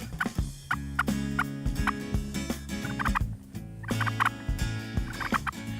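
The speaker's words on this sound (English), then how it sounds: "we heard a couple of distant gobbles in response" Wild turkeys gobbling in Georgia, several rattling gobble bursts repeating across a few seconds, moderately loud, with no people talking.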